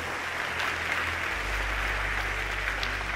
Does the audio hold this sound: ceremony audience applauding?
yes